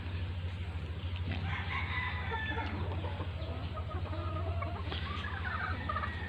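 Roosters and young stags on a farm crow and cluck together at a fair distance, with repeated overlapping calls over a constant low hum.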